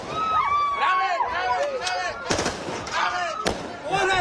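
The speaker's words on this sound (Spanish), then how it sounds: "Después se ve a un militar realizar disparos al aire para dispersar a la multitud." A soldier fires gunshots into the air to disperse a crowd of civilians in Nuevo Laredo, Tamaulipas. Several sharp cracks ring out amid crowd noise and shouting voices.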